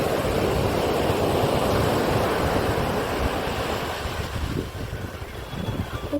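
Sea waves at Shankhumugham beach in Trivandrum make a loud, continuous surf roar with gusty wind. The wash eases slightly toward the end.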